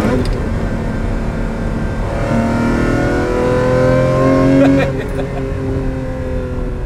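A Ferrari engine revs up close with a rising, wailing exhaust note. Its layered tones climb steadily, peak, then drop off, and a voice speaks briefly underneath.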